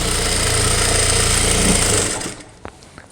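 A sewing machine runs a continuous straight stitch on a kids' crop top, loud and close with a steady mechanical whir, then stops and leaves a quiet room with a few faint taps.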